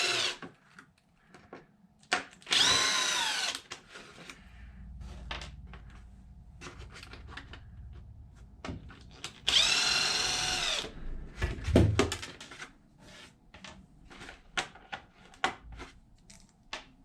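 A power drill loosening bolts on a damaged Losi Super Baja Rey 2.0 RC truck, two loud whirring bursts of about a second each, with tool handling clatter and rattles in between.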